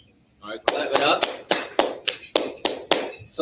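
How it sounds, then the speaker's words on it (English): A small group claps in a steady, sharp rhythm of about ten distinct beats, close and crisp, after a brief quiet start, with faint voices underneath. "All right, clap it up."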